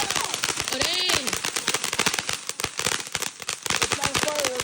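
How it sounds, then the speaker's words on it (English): Fireworks and firecrackers go off in rapid crackling bursts, loud and near, packed with sharp pops and a few rising whistles, while people shout and talk over the barrage at a Fourth of July celebration. "It's not a firework if it doesn't kill your ears."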